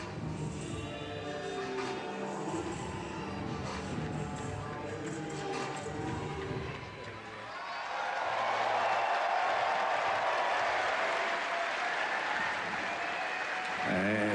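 A crowd in a large hall applauds at a bodybuilding contest. Faint crowd murmur and an announcer come first, then clapping and cheering swell loud and sustained through the second half.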